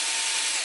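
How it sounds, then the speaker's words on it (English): A Hitachi cordless drill driver loosens 8mm bolts on a Ford Zetec engine oil pump, giving a loud, steady high-pitched whir that holds for under a second with no talk over it. "I take my Hitachi this battery drill driver, and I open this 8mm bolts"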